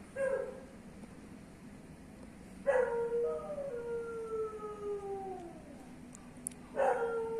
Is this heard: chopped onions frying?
no